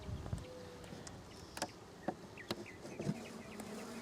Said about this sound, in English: Oh, dude, there's a lot of bees in here.